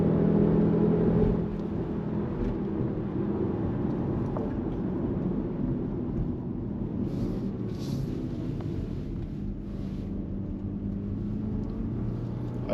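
A car climbs the Pikes Peak road, its engine a steady close rumble with a brief louder surge at the start, then an even drone with faint whirring on top throughout.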